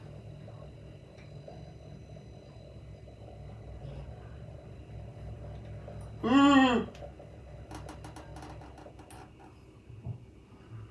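An unlocked DJI Ronin SC gimbal's motors, during a first balance attempt with a Blackmagic Micro Cinema Camera, break into a sudden loud, buzzing vibration lasting under a second over a steady low room hum, with a brief exclamation from a person.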